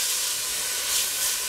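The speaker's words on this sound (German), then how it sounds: "Geben wir erstmal Fleisch zum Anbraten, dass er richtig schönen Geschmack gibt." Meat sears in hot clarified butter in a pot while a vegetable soup is started, giving a steady, close, loud sizzling hiss throughout.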